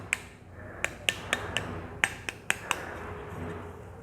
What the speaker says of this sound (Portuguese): eu vou tirar só um pedacinho de cima da casca